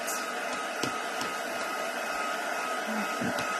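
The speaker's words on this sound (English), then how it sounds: "Give this a quick blast. Lift it away from the mat." A handheld heat tool drying stamped card blows a steady whooshing roar with a faint whine, close and continuous with a few small clicks and knocks, no talking.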